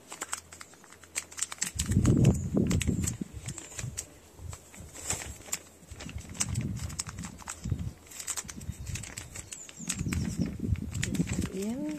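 Paper is folded and creased by hand while a paper basket is crafted, giving repeated rustling and crinkling bursts close by, interspersed with quieter pauses.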